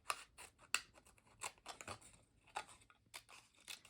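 Scissors snipping paper for Christmas package bows, a run of crisp close cuts with short sharp snips and light paper rustle, no talking.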